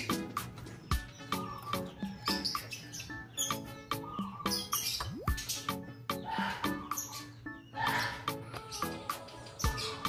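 Lovebird chicks, 24 days old, chirp in a nest box in a steady run of short, sharp peeps that repeat through the whole stretch at close range with no talking.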